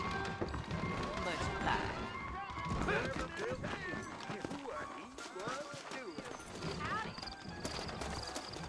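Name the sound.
horses galloping in a video game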